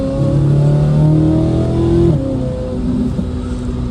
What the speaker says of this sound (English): let me turn the engine noise down just a tad